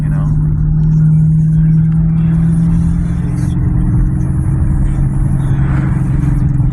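A car engine idling and droning at low speed in slow traffic on a hot day, a steady close rumble with a faint pitch shift, under a low hum of cabin noise.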